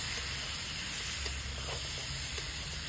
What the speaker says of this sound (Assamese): আলুখিনি ভাজি আছো